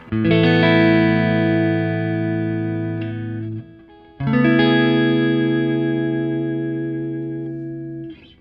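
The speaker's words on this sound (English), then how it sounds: "I'm playing through a 68 Deluxe Reverb that's been black-faced" Two ringing electric guitar chords from a custom Stratocaster through a blackfaced 1968 Fender Deluxe Reverb tube amp, each strummed once and left to sustain and slowly fade.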